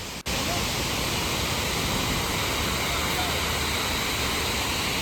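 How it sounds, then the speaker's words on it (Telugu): Water flowing at Dindi on the road to Srisailam, heard as a steady, dense rushing wash that stays even throughout after a brief dip at the very start. "సో చూసారు కదా వాటర్ ఎలా ఫ్లో అవుతుందో,"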